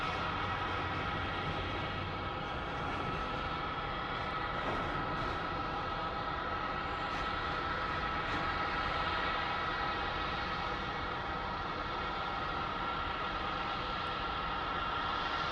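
An Airbus auxiliary power unit runs at an airport at night, heard from a distance as a constant broadband roar with a steady high whine, with no talk over it.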